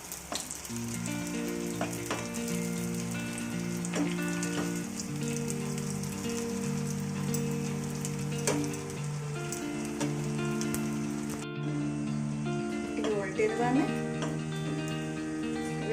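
Sago fritters (sabudana vada) frying in hot oil, a steady dense sizzle and crackle running throughout, with background music playing and a brief spattering burst near the end.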